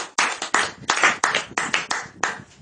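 A congregation clapping in acclaim at a church service, a close, loud run of about a dozen sharp claps in an uneven rhythm with no voices.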